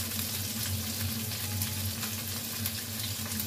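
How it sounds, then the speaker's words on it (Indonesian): Ingredients for paprika chicken sautéing briefly in a pan, a steady, close, hissing sizzle with faint crackles and no talk, holding an even level throughout. "Kita tumis sebentar aja ya ini ya"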